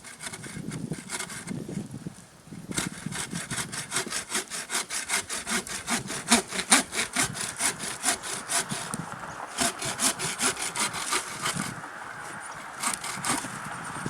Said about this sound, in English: here's a limb that comes out over the driveway. I'll start by just trimming that off